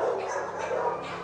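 Dogs at a shelter barking and whimpering, a brief close burst of yelps and whines blended together, with a voice faintly present.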